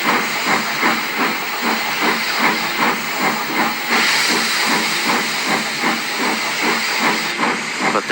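Rhythmic steam locomotive chuffing, a steady run of loud hissing puffs with constant steam hiss, close and sustained.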